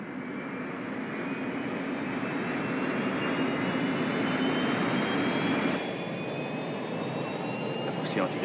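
A spacecraft lifts off with antigravity thrust, giving a loud steady roaring rush with a rising whine that shifts in tone partway through, while voices speak faintly beneath it.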